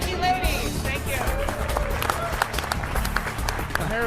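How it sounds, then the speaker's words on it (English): An audience applauds a World Poker Tour cash presentation, with a dense, steady round of clapping and crowd murmur lasting about four seconds. "We get a nice round of applause."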